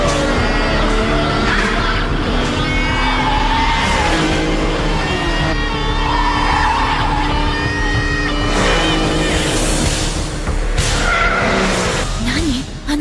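The Blackbird, a Porsche tuned with a replaced muffler, racing in an anime street-racing scene: a loud, continuous engine roar with tire squeal and revving surges, voices talking over it.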